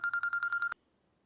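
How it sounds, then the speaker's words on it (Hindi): A telephone rings in a rapid series of about seven electronic trill pulses, close and clear, then cuts off abruptly into near silence. "किसका? इमाद का फोन।"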